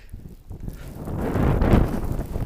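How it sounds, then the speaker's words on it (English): Strong wind gusts during a Boston blizzard, a broad roaring rush that builds and swells toward the end, loud and close against the microphone. "now the wind's really picking up"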